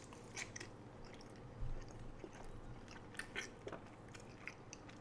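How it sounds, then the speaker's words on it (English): Donuts are chewed and slurped right up against the microphone, giving soft, wet munching and a few louder bites and crunches in an uneven rhythm; no talking. "slurping and eating donuts so close to my microphone"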